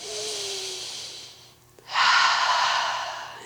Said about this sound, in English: Take one final breath together.